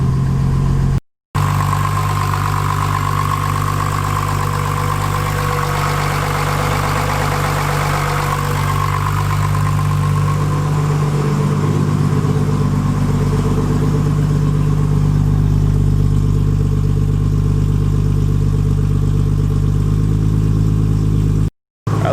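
A Nissan 240SX S14 with an RB25DET engine idles after a cold start, a steady low rumble with a slight rise and fall in pitch, close and loud, no talking.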